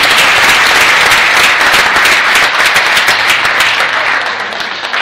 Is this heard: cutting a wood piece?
no